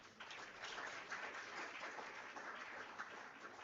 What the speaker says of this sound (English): please let's give her another round of applause.